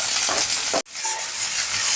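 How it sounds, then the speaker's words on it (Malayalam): Ginger, garlic and green chillies sizzle in hot oil for a Kerala Vishu sadya dish, a steady loud broadband hiss that cuts out for an instant, then resumes just as strong. "ഇതിലേക്ക് ഞാൻ ആദ്യം ഇഞ്ചി, വെളുത്തുള്ളി, പച്ചമുളക് ഇടുന്നുണ്ട്"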